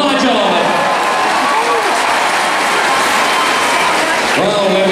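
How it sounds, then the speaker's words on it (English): Horse show crowd at the Horse of the Year Show Scurry Driving Championship applauding steadily and loudly throughout, a broad wash of clapping in a large arena with faint crowd noise. "Give him a round of applause."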